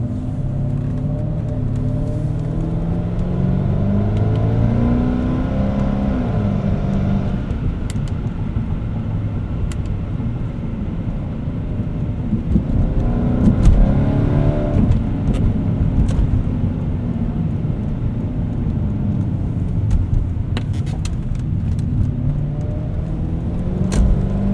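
A 1998 Lexus GS 400 accelerating hard while upshifting in manual mode, its engine note climbing and dropping with each gear change in a steady, loud cabin rumble, with no talking.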